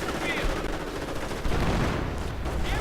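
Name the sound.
gunfire in a WWII strategy video game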